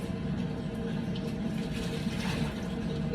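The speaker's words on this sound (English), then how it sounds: "because I put too much water in the canner, so I had to dump that out in the sink" Water from an overfilled canner is poured into a kitchen sink, a steady, fairly quiet rushing and splashing that runs unbroken from start to finish.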